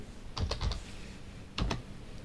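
Two short clusters of key presses on a keyboard, a few taps each separated by a pause, as a number is typed in; close, fairly soft, no voices.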